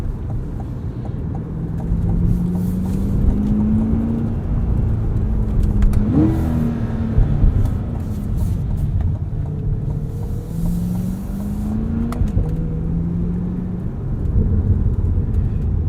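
A standard Chevrolet Corvette without the Z51 package drives past, its engine droning and rising in pitch through repeated accelerations and gear changes, loud over steady road and wind noise.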